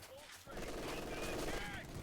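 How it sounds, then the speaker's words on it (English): Close-range MG42 machine gun fire in Company of Heroes 2, a dense sustained burst starting half a second in and continuing loudly to the end, overlaid on game sounds with a caster talking over it. "Close range MG42."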